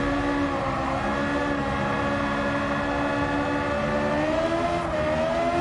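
A high-revving engine-swapped Suzuki Swift Sport in Gran Turismo 7 holds a steady, loud whine with a slowly rising pitch, and no voices over it.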